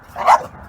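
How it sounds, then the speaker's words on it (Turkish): A single short bark from a dog during a scuffle between a pitbull and a Dogo Argentino, loud and close, with no voices. "Büyük kapışma. Pitbull karşı Dogo Arjantin."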